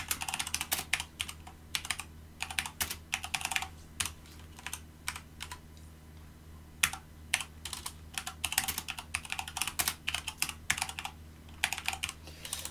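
Steady typing on a computer keyboard while writing a JavaDoc comment in Java code, with quick close key clicks in bursts and a brief pause midway, no talking.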